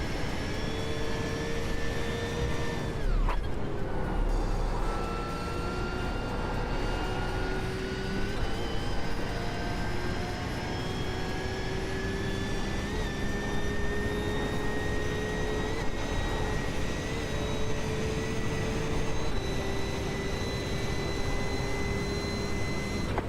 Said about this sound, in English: Rev the hell out of that.